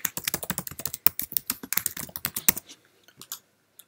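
Rapid keystrokes on a Mac keyboard as a folder name is typed, a dense burst of close, crisp clicks for about two and a half seconds, then a few scattered taps before falling silent.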